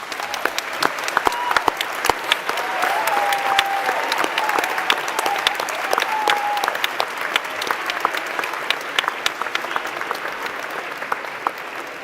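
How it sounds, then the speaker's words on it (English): A large graduation ceremony audience applauds in a sustained, dense wash of clapping that holds steady for the whole stretch, with a faint whistle-like tone briefly riding above it. "Let's give them the applause they so richly deserve."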